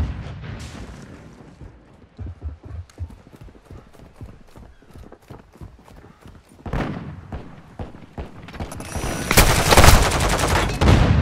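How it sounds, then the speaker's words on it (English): In Call of Duty Modern Warfare II, a stun grenade goes off after a run of quick, clattering hits and gunfire-like pops, ending in a loud, bright burst that keeps ringing. "Stun grenade out!"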